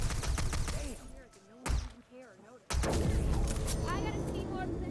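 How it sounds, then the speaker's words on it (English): Gunfire in the stealth video game Hitman: Absolution, a few sharp shots followed by a loud, sustained burst of rapid firing that fills the second half, with music and voices running underneath. "Then shoot at the target."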